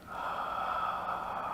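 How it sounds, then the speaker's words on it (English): A slow, deep breath drawn in through the nose, heard as a steady, close airy rush that lasts the whole moment with no talk. "we take another deep breath in"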